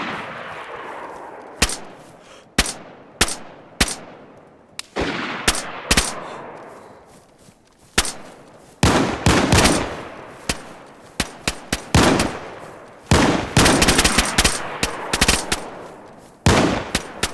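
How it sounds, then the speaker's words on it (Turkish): Gunfire in the survival game DayZ during a night hunt: sharp single shots and short bursts crack out at irregular intervals, some close and loud, others echoing with long decaying tails, with a dense rapid volley in the middle and no talk. "Erhan sen mi sıkıyorsun?"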